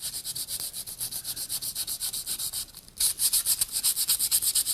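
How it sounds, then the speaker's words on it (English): Sandpaper scrubs back and forth over the waxed wooden handle of an axe in quick, steady strokes, dipping briefly just before the midpoint and then returning louder and rougher. "run your sandpaper over the waxed surface here"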